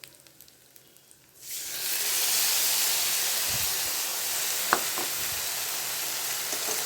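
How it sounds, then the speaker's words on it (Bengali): Ginger-cumin paste hits a pan of frying rice for basanti pulao, bursting into a loud, steady sizzle after a quieter start, with a faint clink partway through. "এরপরে এর মধ্যে দিয়ে দেবো একটু আদা জিরে বাটা"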